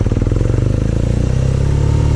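A 2019 BMW R nineT Urban G/S motorcycle engine runs at a loud, close, throbbing idle, its low pulses beating in a quick, even rhythm with no voices.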